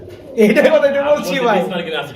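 Danish pigeons coo softly in low, throaty warbles while someone talks over them throughout.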